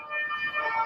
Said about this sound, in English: Sorry for that siren there.